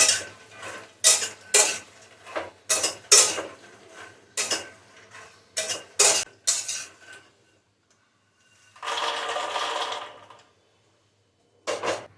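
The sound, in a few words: roasting makhana (fox nuts) in ghee in a kadhai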